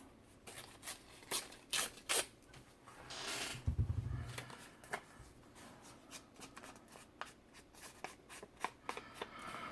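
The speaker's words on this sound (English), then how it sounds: "This edge, I need to tear this edge a little." Paper edges are torn by hand for a large handmade booklet, with a longer ripping burst amid scattered crinkles, taps and rustles of handled paper, close and fairly quiet, without talking.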